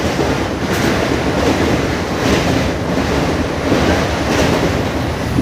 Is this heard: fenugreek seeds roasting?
no